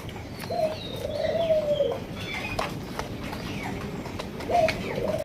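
Big-sized Rajgolla pigeons coo nearby, two clear rolling coo phrases separated by a pause, over a soft background with faint chirps.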